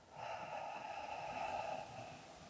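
A person blows out forcefully and steadily during a yoga breathing exercise, one sustained, breathy exhale lasting about two seconds, close and fairly soft, with no talking.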